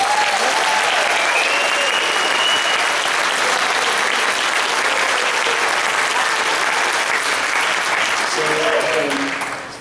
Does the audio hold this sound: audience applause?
yes